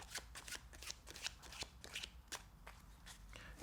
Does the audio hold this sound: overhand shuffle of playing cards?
yes